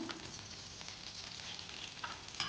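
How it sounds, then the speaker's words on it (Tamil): Cumin seeds sizzle in hot ghee in a kadai for cabbage pulao, a steady, fairly soft frying hiss dotted with small crackles and pops, close by and with no voices. "இப்போ கடாயில் நெய் ஊற்றிக்கலாம் சீரகம்"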